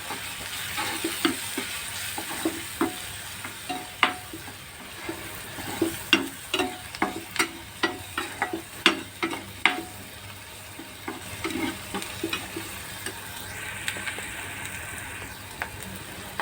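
Okra stir-fried in a pan with chilli powder, turmeric, vegetable masala and salt: a steady sizzle with repeated sharp spatula scrapes and taps against the pan, close and fairly loud, with no one talking.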